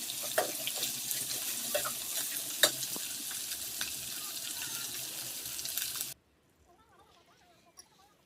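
Onions, green chilies, ginger and curry leaves sizzle and crackle steadily in a hot pan with occasional stirring clinks, then the sizzling abruptly stops, leaving near silence.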